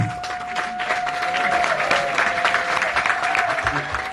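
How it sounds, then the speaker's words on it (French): An audience at a general assembly in Lyon applauds a young man being thanked, a dense, even patter of clapping under a faint steady tone, with some voices mixed in. "Merci de l'applaudir"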